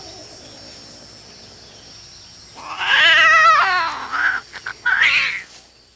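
A female cat lets out a loud, wavering caterwaul right after mating, a sustained harmonic yowl that breaks into shorter cries and scuffling noises, close and alone after a quiet start.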